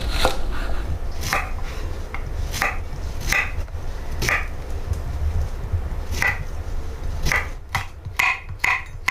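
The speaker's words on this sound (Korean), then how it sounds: "애호박 반달 썰기" Knife chopping zucchini into half-moon slices on a cutting board, a series of sharp close taps in irregular bursts with short pauses between, no talk.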